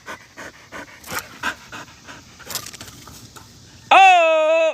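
A dog pants rapidly and close by in quick rhythmic bursts, then a loud squeaky toy-like tone cuts in near the end.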